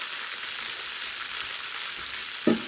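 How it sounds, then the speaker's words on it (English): Skin-on chicken breast sizzling loudly and steadily in a hot pan, a continuous close frying hiss with a brief louder crackle near the end. "as soon as I laid that chicken breast down, you could hear the sizzling"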